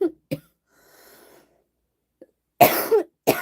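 A few sharp, close coughs, one short burst followed by a harsher double cough near the end, with a faint breath in between.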